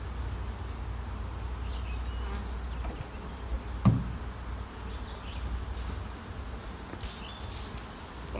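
Honey bees buzz steadily around an open hive being reduced from a double to a single brood chamber, a dense continuous drone with a brief louder knock partway through.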